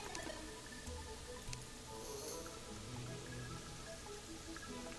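Steady rain in the video game Terraria, a dense even patter that fills the whole stretch at moderate level with no voices over it.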